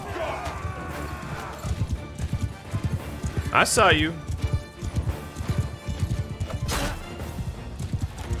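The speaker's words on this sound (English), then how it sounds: "I do see one horse trying to sneak by." Horse galloping on a Mount and Blade Bannerlord battlefield, steady clip-clop hoofbeats running throughout with a brief whinny-like cry midway, heard under close, continuous talk.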